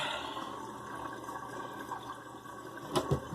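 Water gurgles and swirls as it drains from a sink, a soft continuous trickle with a couple of louder glugs near the end.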